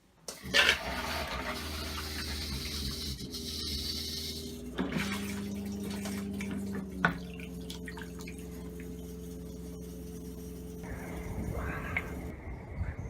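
Water running from the shower of a hybrid RV to purge the lines during de-winterizing, a steady spray with splashing and a few drips and clunks, close by and continuous.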